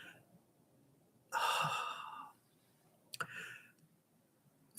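A person breathing deeply through a calming exercise, with one long, loud exhale followed by a shorter, quicker breath, both close and alone against a quiet background.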